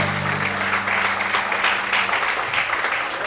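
A church congregation applauds in a dense, steady burst of clapping during a morning service, with a held tone fading partway through.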